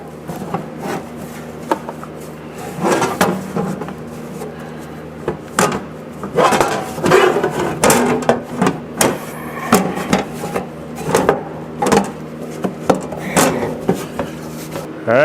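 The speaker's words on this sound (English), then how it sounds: "Now it's time to just get the liners in place." Plastic inner fender liners by American Adventure Labs being fitted into the wheel wells of a Jeep Gladiator, heard as irregular knocks, taps and scraping thuds of hard plastic against the body, close and fairly loud, with no talking.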